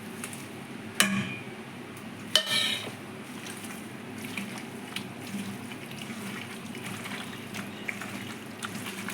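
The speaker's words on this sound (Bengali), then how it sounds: "দিয়ে এবারে কুচানো পেঁয়াজটা আমি ঢেলে দেবো" Chopped onions tipped into a pan for chicken kosha, with two sharp clatters of utensil against the pan followed by a soft, steady sizzle.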